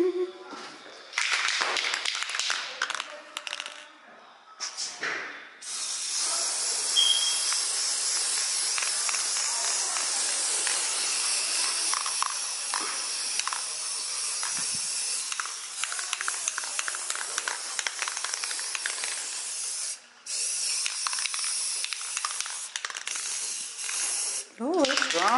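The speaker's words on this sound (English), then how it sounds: "So now I'm gonna go ahead and try to spray paint this one." Aerosol spray paint can hissing as it sprays silver paint, a long, steady near hiss running almost continuously with a few short breaks.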